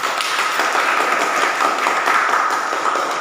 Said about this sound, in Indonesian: Beri tepuk tangan dulu untuk kalian berdua.